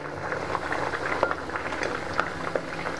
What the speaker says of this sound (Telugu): మళ్ళీ మూత పెట్టి ఒక 10 మినిట్స్ ఉడకబెడదాం